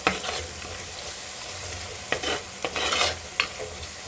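A spoonful of chili powder is stirred through hot oil in a frying pan as the base for a crab curry, with a soft steady sizzle and a few sharper spoon scrapes near the end, close and quiet, no talking.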